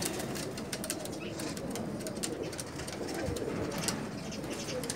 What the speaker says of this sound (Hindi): माशाल्लाह बहुत अच्छे कबूतर हैं जी